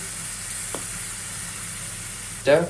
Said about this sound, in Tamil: ஒரு 2 to 3 மினிட்ஸ் நல்லா ஃப்ரை பண்ணிக்கோங்க